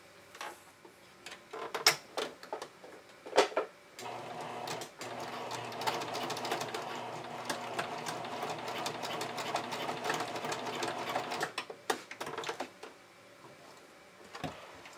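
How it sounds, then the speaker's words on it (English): A sewing machine stitches a straight seam on a bikini strap, running steadily and close for several seconds in a fast rhythmic whir, with brief stops, clicks and handling sounds before and after. "I'm just going to stitch it on right here with a straight stitch"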